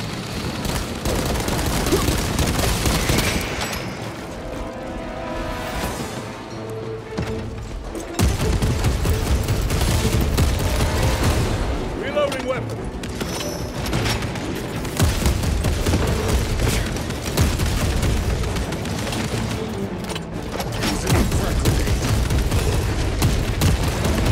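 Orbital guns firing in the video game Warhammer 40,000: Space Marine 2, with dense rolling booms and gunfire blasts layered over constant battle noise, loud and sustained throughout.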